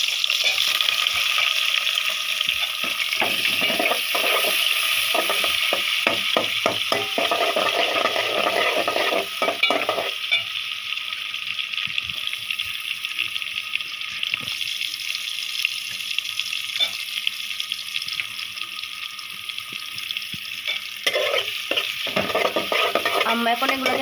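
Onions and garlic frying in a pan and being stirred, a constant close sizzle with scattered clicks and scrapes of the spoon against the pan, no voices.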